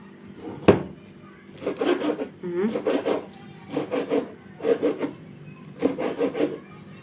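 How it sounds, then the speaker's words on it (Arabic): Parsley chopped with a knife on a board for an eggplant salad, heard as close bursts of rapid rhythmic chopping strokes separated by short pauses, opening with a single sharp knock. "هنا بقى نسيت بس اقطع البقدونس"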